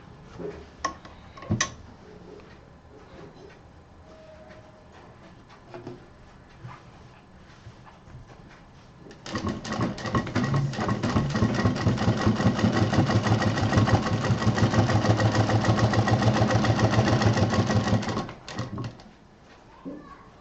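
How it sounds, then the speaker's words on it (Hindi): Quiet handling and a few taps come first, then a sewing machine stitches a backpack pocket, running steadily and loudly for about eight seconds with a fast rhythmic whirr before it stops. "अब ये जो पॉकेट हम यहाँ लगा रहे थे इसको सिंपल मशीन से यहाँ सिल देंगे।"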